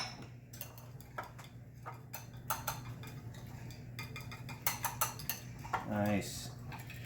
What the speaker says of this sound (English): We're going to whisk that in with the butter and 1 egg yolk, and we're going to mix that up there.